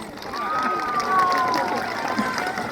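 Crowd applause and cheering at a live hip-hop performance in Iisalmi: a broad, continuous wash of clapping and crowd noise, with a single drawn-out whistle rising above it, heard throughout at moderate level.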